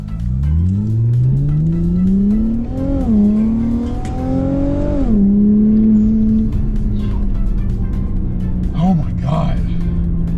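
A 2016 Infiniti Q50S Red Sport 400 sedan engine revs up loudly with rising pitch, shifts gears a couple of times, then settles into a steady drone, close and prominent throughout.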